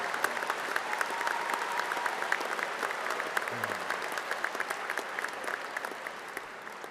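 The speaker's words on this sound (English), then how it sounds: "Now we can applaud for them" A graduation ceremony audience gives the school staff a steady round of applause for the Class of 2024, dense clapping filling the hall from start to finish at an even level.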